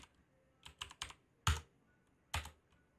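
A short burst of keystrokes on a computer keyboard while a sudo openvpn command is entered in a terminal: a few quick clicks, then two sharper, louder taps, close and alone.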